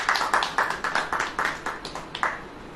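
A church congregation claps hands together in a steady, rhythmic beat, around a dozen even claps in a row, fading slightly toward the end.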